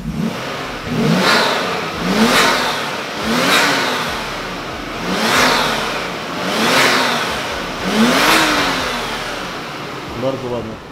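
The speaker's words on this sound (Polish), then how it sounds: "Zobaczmy, jak to brzmi teraz z zamkniętą klapą." A sports car engine in a garage, with the hood closed, revs in repeated sharp bursts, about six rising blips that fall back to idle between them, close and fairly loud.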